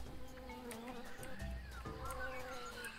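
A steady droning buzz of bees in the video game Tales of Monkey Island fills the whole stretch, continuous and moderately loud over a busy game background.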